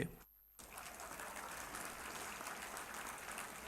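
A crowd at a graduation ceremony claps in a dense, steady, fairly distant patter. The clapping briefly drops out near the start, then carries on evenly to the end.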